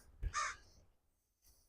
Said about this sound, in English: Crow up there somewhere. Oh, there he is. Up there in the tree.